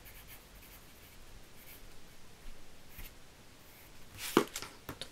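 Pen writing on paper during a crafting session, a faint steady scratching that gives way to a sharper burst of strokes near the end, close and quiet.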